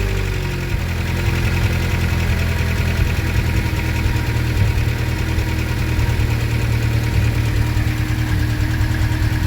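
A Talbot Horizon car engine fitted with motorcycle carburettors idles steadily, giving a continuous close, low rumble with slight vibration and no voices.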